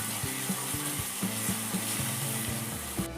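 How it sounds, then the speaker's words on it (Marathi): Ground spice masala of chilli powder, coriander powder and garam masala frying in oil for urad dal aamti, a continuous close sizzle with rhythmic scraping of a stirring spoon against the pan. "आणि हे चांगलं फ्राय करून घेते"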